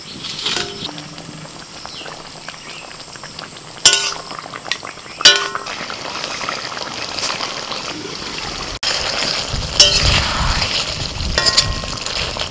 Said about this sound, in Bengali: মশলাটা ফুটে গেছে, ভাজা মাছগুলো দিয়ে দিচ্ছি।